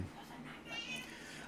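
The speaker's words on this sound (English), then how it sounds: "If you guys hear a cat in the background" A pet cat meowing somewhere in the background of a room, a faint, drawn-out cry rising briefly under quiet surroundings.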